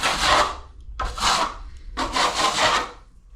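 A trowel drags sandy, gritty plaster across a wall in three long rasping strokes, each a coarse scraping rub with short pauses between, close and fairly loud with no talking.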